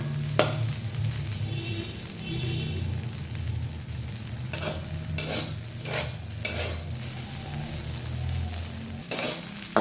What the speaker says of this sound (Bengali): বেশ খানিকক্ষণ নাড়াচাড়া করে ভাজতে হবে একদম